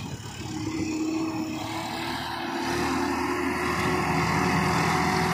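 A Swaraj 969 tractor pulls a laser leveler across a farm field, its engine droning steadily and close, the low rumble swelling slightly louder toward the end with no voices.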